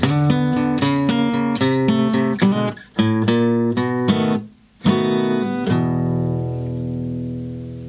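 A blues guitar plays an intro turnaround with hybrid picking, a quick run of plucked notes and double stops that gives way to a few accented chords and ends on a ringing chord fading out, played solo.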